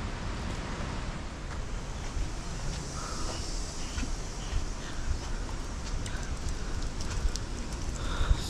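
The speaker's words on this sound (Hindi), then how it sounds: "बारिश बहुत ज़ोरदार हो रही है" Dense, steady rain pours down near a waterfall in Tosh village, a constant hiss with scattered drips and patters close by.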